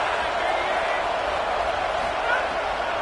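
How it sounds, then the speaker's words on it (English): At a Michigan versus Indiana college football game, a stadium crowd roars in a continuous, dense wall of noise that holds steady from start to finish, with a voice talking over it. "Listen to this crowd just shaking the girders of this place"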